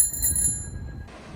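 A bicycle bell on a bike-packing trip around the Isle of Wight gives a single bright ring at the start that quickly fades into low road and wind noise.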